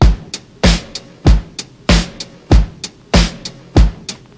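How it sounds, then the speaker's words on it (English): A punchy drum beat with strong kick hits about every 0.6 seconds and crisp snare or hi-hat accents in between, steady and loud with no voices. "So let's start with the drums. The drums are sound like this."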